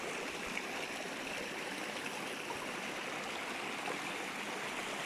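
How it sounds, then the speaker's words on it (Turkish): Steady rushing water from a waterfall near a village in Türkeli, Sinop, a continuous broadband roar with no pauses and no voices. "Bak şelaleye."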